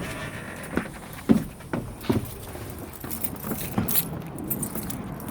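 Keys jangle in a few quick metallic clinks and rattles as they are pulled from the ignition of a Class B commercial vehicle, close and moderately quiet over a low idle-like background.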